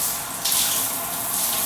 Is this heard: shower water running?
yes